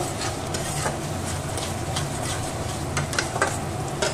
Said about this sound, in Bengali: এবার আমি এখানে পেঁয়াজটাকে আর আদা রসুনের পেস্টটাকে ভালো করে তেলে কষিয়ে নেব।